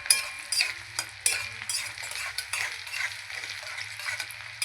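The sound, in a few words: onions frying in oil with cumin and bay leaf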